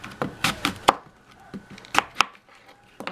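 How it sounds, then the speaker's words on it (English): A knife chops a whole green apple on a wooden board in irregular, crisp, close thuds, some in quick pairs and others spaced apart by pauses, with no talking. "chop up your whole entire apple"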